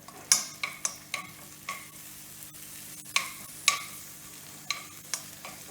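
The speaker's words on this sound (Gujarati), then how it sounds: "પછી આને હલાવવાનું" A spatula stirs vada pav potato filling in a hot pan with curry leaves, giving scattered scraping clicks and knocks over a steady low sizzle, close and fairly quiet, with no talking.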